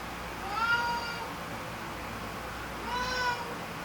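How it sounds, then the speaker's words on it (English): A pet cat meows twice indoors, moderately close, with a quiet pause between the two calls and faint room noise underneath. "Sorry, my cat will not shut up."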